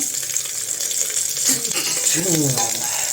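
Onions sautéing in a pan, a steady close sizzle and frying hiss with light clatter of stirring, and a voice briefly speaking near the end.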